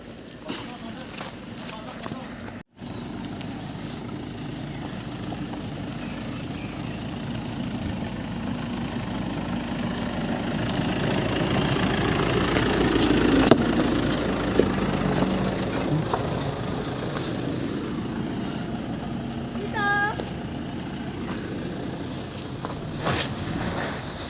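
A motorcycle engine hums low in an outdoor rural spot in Albay, Bicol, growing louder as it approaches and then easing off, with people talking nearby.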